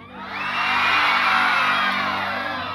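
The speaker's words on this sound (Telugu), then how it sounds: "ఒకసారి గట్టి ఓ అనవరండి" A crowd of schoolchildren at a Children's Day celebration shouts a long, loud "O" in unison, one sustained group yell that swells and holds for nearly three seconds before easing off slightly.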